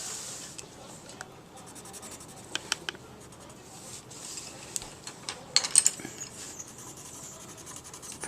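A Crayola crayon is pressed hard and rubbed across paper, a soft scratchy scrubbing with scattered sharper ticks and taps, fairly quiet and close.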